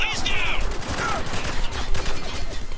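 Enemy soldiers firing at close range in the shooter game Spec Ops: The Line, a rapid crackling fusillade of overlapping gunshots with whizzing effects, loud and continuous, with faint voices mixed in.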